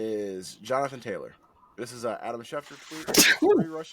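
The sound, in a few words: sneeze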